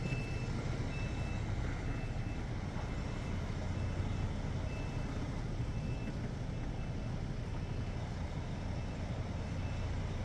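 A semi truck backs up while jackknifing its trailer, its faint backup alarm beeping in a steady repeating rhythm over a constant low diesel engine rumble.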